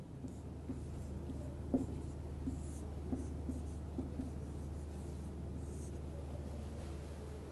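Chalk or marker writing on a board during a physics lecture makes faint, scratchy strokes in short irregular bursts over a steady low room hum, with no speech.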